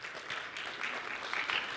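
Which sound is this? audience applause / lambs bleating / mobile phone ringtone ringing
audience applause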